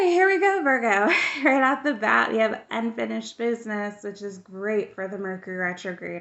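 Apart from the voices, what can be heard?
No everyday noises stand out.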